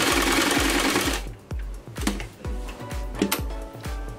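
Sewing machine stitching a multi-colour blouse, first a fast continuous run of stitches, then slow separate needle thumps roughly every half second as the work is turned.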